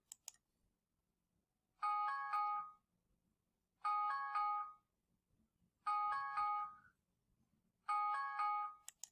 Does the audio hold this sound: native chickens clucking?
no